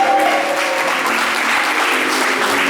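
A church congregation applauding, a dense, steady burst of clapping from many hands filling the room at full volume from start to finish, with no voices over it.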